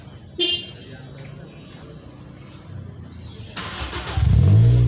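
Background murmur and a short beep, then a car engine started by remote with no one inside cranks and catches near the end, settling into a low running rumble.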